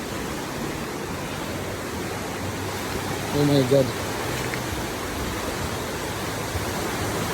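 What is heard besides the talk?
strong rushing river water flooding a farm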